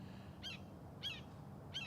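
A blue jay mimics a red-shouldered hawk, giving three sharp, evenly spaced screaming calls about every 0.6 seconds, clear against a low steady background hum.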